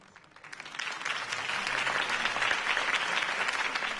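Applause from a crowd swells up after a quiet start and holds steady as a dense, continuous clatter of clapping.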